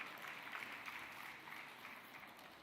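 An audience at a parliamentary meeting of the COP29 conference in Baku applauds its panelists, sustained and even clapping from a large crowd heard at a distance, with no voices over it.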